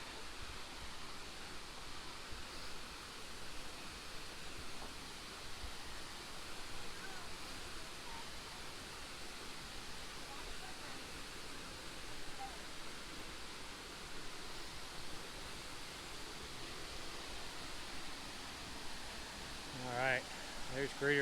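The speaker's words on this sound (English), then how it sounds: "That is another beautiful waterfall." Greeter Falls in Savage Gulf, Tennessee, pours into its pool with a steady, full roar of rushing water that holds unchanged from start to finish, close and enveloping.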